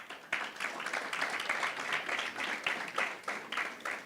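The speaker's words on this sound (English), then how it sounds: "a round of applause." Ceremony audience breaks into sustained applause, a dense, steady wash of many hands clapping that carries on throughout without pause.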